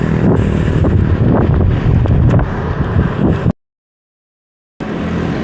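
Steady wind roaring across the microphone of a bicycle-mounted camera on a morning ride, with heavy low rumble that cuts out abruptly into silence for over a second, then resumes.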